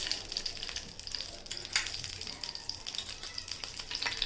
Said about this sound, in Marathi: आता आपण हा तूपसुद्धा चांगला गरम करून घेणार आहोत